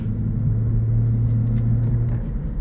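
A 2024 Lexus IS 350 F Sport on a road test, giving a steady, close low engine and road rumble with a constant drone throughout and no talking.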